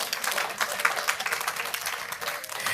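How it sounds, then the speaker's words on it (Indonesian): A church congregation applauds together during a sermon, dense steady clapping filling the room at moderate loudness with a faint voice or two underneath. "kalau tepuk tangan jangan satu aja"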